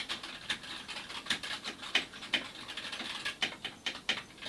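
Womier K66 mechanical keyboard with red Gateron switches typed on up close, a quick irregular run of soft, fairly muted key clacks that continues steadily throughout without any talk.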